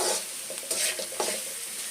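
Onions salted and frying in a pan for bansi rava upma, a short burst of close hissing sizzle with quick stirring scrapes, no voices.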